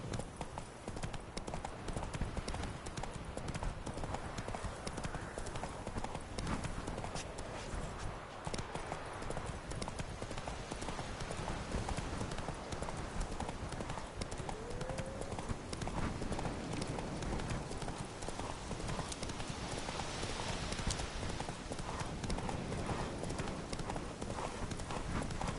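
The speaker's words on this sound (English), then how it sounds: "Whoa there, Roach." A horse's hooves galloping in the video game Witcher 3, a continuous rapid clip-clop rhythm at steady loudness for about 25 seconds, without talk.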